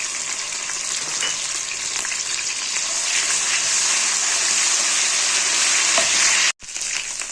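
Garlic ginger paste frying in a pan with whole spices for a white chicken karahi, a loud continuous sizzle with stirring scrapes, briefly cut off near the end before resuming.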